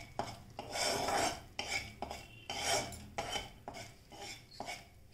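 A thick Mysore pak mixture is stirred in a pan over a low flame, with a steady run of rhythmic scraping strokes, about eight or nine close sweeps of the spoon against the metal, and no voices.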